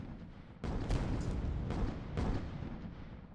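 Hades guns fire in an airship battle game, several heavy booming blasts landing one after another over a rumbling battle background, loud and close.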